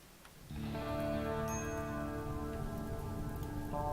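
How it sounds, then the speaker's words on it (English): Steady rain falls in the colony-building game Rimworld, a dense, continuous patter that swells abruptly and then holds at an even level, with a low, tonal musical drone running underneath. "Rain should start any second"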